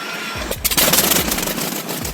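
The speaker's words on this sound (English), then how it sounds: "The Pratt & Whitney R4360 Wasp Major, the ultimate evolution of piston power." A Pratt & Whitney R-4360 Wasp Major, an air-cooled 28-cylinder radial aircraft piston engine of 71.5 liters, roars loudly and close. A deep rumble builds up sharply and holds for about two seconds.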